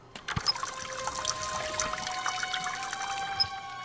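Water poured onto a rag in the adventure game The Raven, a thin trickling stream with small splashes and drips, moderately quiet and steady for a few seconds.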